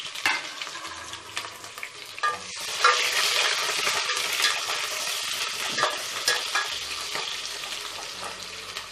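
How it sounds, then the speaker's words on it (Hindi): Onions and whole spices fry in hot oil for laal maas, a steady loud sizzle with scraping stirs throughout, swelling stronger after the first couple of seconds. "प्याज को भूनते रहेंगे।"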